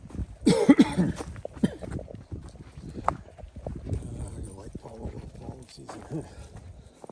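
A few rough coughs burst out near the start on Hell Hollow Trail, followed by scattered movement and low rustling, with a voice murmuring in the background.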